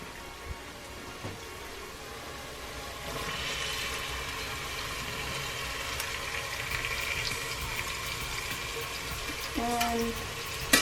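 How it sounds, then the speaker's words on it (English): Peppers and garlic sautéing in a pot of vegetables, a steady close sizzle like light rain that runs through the clip, with a few soft clinks near the end. "Just need to let them saute for max 3 minutes"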